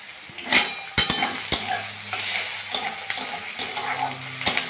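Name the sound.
onion, garlic and ginger frying in pan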